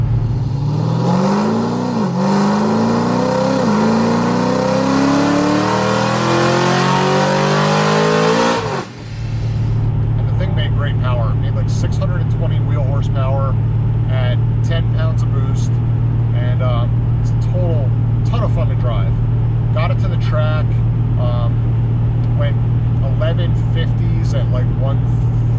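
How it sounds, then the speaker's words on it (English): Silver Bullet FX car engine revving hard on a dyno, a loud rising and falling roar for about nine seconds, then a steady loud drone with clattering and talk over it. "We brought it out there, he put it on the dyno."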